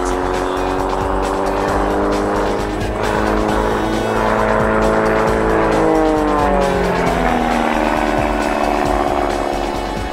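A Slick unlimited aerobatic aircraft drones overhead in flight, its engine note strong and continuous, rising and falling in pitch as the plane maneuvers, nothing like a popping four-cylinder Lycoming.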